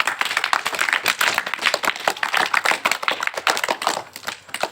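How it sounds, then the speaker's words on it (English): A class claps for a student after an excellent performance, a dense run of close hand claps filling the whole stretch with steady, lively energy. "So all of you clap for him."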